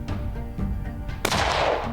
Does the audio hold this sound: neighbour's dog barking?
no